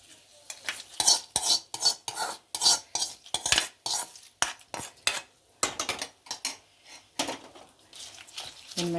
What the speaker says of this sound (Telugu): మొత్తం మిక్స్ అయ్యేలా కలిపేయండి